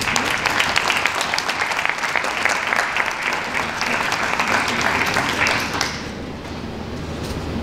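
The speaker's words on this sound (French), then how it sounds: "Vous pouvez l'applaudir s'il vous plaît." An audience at the opening ceremony for 20 years of STAPS at Université Paris 13 applauds a colleague. Sustained, lively clapping runs for about six seconds, then drops away abruptly to quiet room tone.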